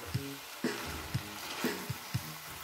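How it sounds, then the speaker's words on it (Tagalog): Fresh pancit with pechay sizzles in a frying pan while being stirred, with rhythmic scrapes and knocks of the utensil landing about twice a second over a steady frying hiss. "Haluin hanggang sa maluto"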